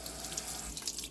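Tap water runs steadily over a stainless steel Spirinet scrubber ball held under a faucet, a close, continuous splashing hiss with light drips and no talking.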